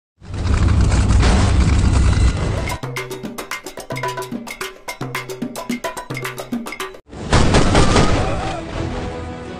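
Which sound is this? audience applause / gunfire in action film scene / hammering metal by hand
gunfire in action film scene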